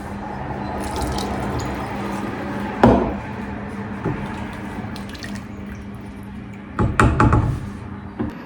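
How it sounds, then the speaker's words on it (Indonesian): Water poured into a pot of Slovak-style stew, a steady liquid trickle and splash with a couple of louder pouring bursts, close and otherwise alone. "Airnya kurang nih, saya tahu tambahin lagi airnya."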